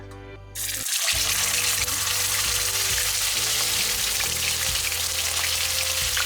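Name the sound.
pork steak frying in hot oil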